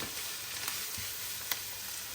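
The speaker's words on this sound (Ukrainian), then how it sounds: "Перемішуємо все разом" Steady frying sizzle from a pan of carrots and onion, with a couple of soft scraping stirs partway through; no talking.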